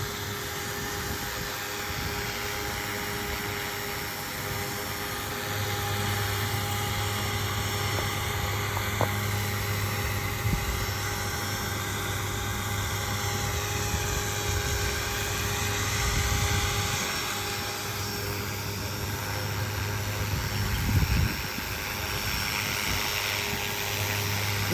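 Bluethunder 500-size RC helicopter hovering with new blades and tail unit, a steady loud whine and rotor drone holding constant throughout, with slight swells in intensity.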